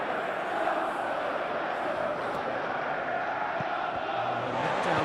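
A stadium crowd at a simulated Chelsea versus Leeds United FA Cup semi-final in eFootball PES 21 gives a steady roar of cheering and applause, broad and sustained throughout.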